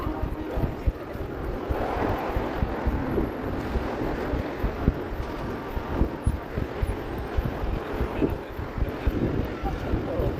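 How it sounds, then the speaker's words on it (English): Warm outdoor breeze buffets the microphone with a steady rushing, low rumbling wind noise that pulses and gusts throughout. Faint voices can be heard beneath it. "It's nice and breezy"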